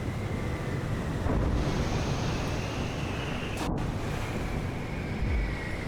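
Ocean waves and wind from the game Exo One roll in a steady, loud wash of surf and gusting air, continuous throughout with a brief swell of spray midway.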